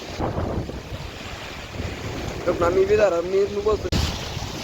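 A low, constant roar of floodwater from the Tapi River rushing through thirteen fully open gates of the Prakasha Barrage, mixed with heavy wind buffeting the microphone, and a voice briefly speaking partway through.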